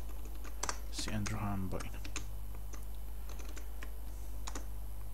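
Quiet clicking of a computer keyboard as code is typed, irregular keystrokes scattered across several seconds beneath a man's nearby speech and a low steady hum.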